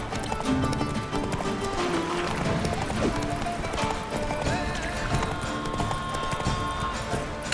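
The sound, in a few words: horse Roach galloping in The Witcher 3 video game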